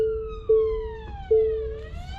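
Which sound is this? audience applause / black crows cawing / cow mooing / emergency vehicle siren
emergency vehicle siren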